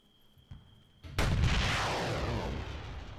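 A single loud gunshot or artillery-like blast in the video game Arma 3 cracks out after a quiet lead-in, followed by a long rolling echo that slowly fades over the next two seconds.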